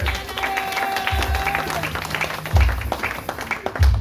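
A church congregation breaks into applause and cheering during a sermon, a dense wash of clapping with crowd voices and low thumps mixed in, fairly close and sustained throughout.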